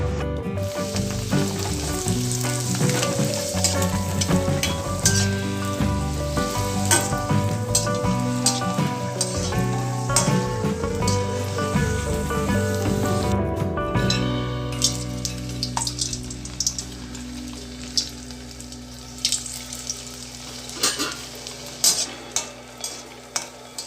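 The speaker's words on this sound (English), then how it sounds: "we're now going to test it with hot oil" Rice crackers (rice papad) fry in hot oil with a dense, steady sizzle and crackle, mixed with stirring scrapes, lasting a long stretch before easing into a lighter, spattering hiss.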